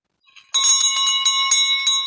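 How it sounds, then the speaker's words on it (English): A bright bell rings close and loud, struck repeatedly in quick succession so its clear metallic tones overlap and sustain. "I hear the bell."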